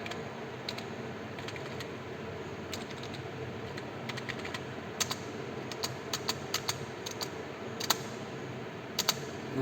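Fast typing on a computer keyboard while entering assembly program instructions: a steady run of light key clicks, close and clear, with a few louder presses near the end.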